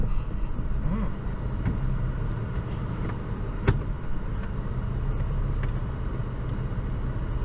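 A vehicle engine rumbles steadily as it crawls a rocky off-road trail in four-low near Sedona, with a continuous low drone and occasional knocks and clunks from the terrain, no talking.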